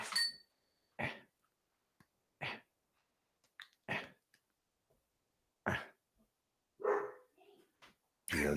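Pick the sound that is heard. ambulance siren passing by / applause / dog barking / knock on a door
dog barking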